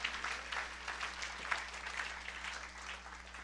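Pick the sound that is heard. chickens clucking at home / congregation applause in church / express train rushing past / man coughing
congregation applause in church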